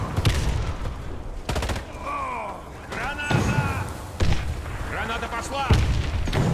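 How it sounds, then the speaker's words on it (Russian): Bursts of gunfire and heavy blasts, including a grenade explosion, from the online shooter game Warface rattle out in repeated loud volleys, with voices shouting over the combat. "Граната пошла!"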